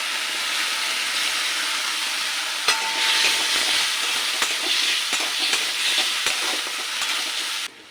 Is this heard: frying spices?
yes